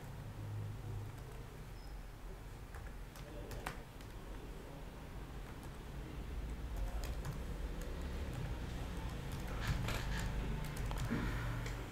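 Scattered keystrokes on a computer keyboard as an email address is typed, with irregular soft clicks over a low steady room hum and no voices.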